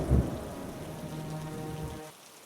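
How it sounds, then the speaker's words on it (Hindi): Continuous rain falling on a village: a steady, dense patter with a low rumble at the start, then the downpour thins out near the end. "अब लगातार एक सप्ताह बारिश होती है।"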